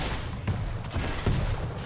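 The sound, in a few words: rocket fired and exploding in the video game Quake Champions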